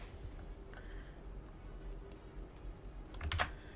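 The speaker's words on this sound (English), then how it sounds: "Ah! Typing." Rapid typing on a computer keyboard, steady clicks close by and alone, ending in a louder cluster of keystrokes.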